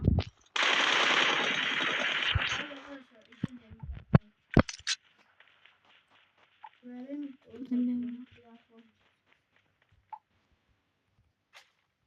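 Video game gunfire from M4 and Kar98 weapons opens with a loud rapid burst of about two seconds, followed by a few scattered single shots, while players talk quietly.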